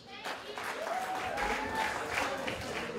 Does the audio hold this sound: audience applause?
yes